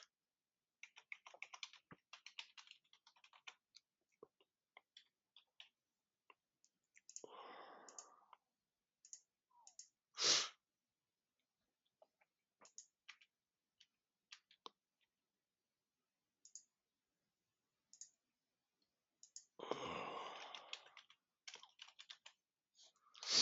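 Computer keyboard typing and mouse-style clicks, sparse bursts of close key taps scattered across a quiet background, with a few louder isolated clicks and pauses between runs.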